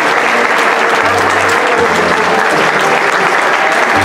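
A hall full of people at a Mexico Jewish community gathering rise in a standing ovation, a dense, loud, unbroken wall of clapping that continues steadily.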